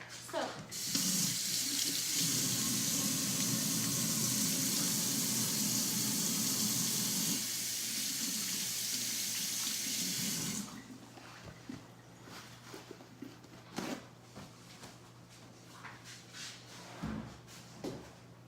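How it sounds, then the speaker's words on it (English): Tap water runs hard into a sink for about ten seconds, a loud close rushing splash, then stops, leaving quieter trickles and soft handling sounds of hands being washed. "Your first step before preparing any meal is to wash your hands with soap."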